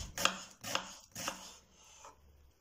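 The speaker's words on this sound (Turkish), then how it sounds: "Kuru soğanımı ince ince doğruyorum." A knife finely chopping a dry onion on a board for a savory flatbread filling, three crisp close cuts about half a second apart followed by a faint fourth, with no talking.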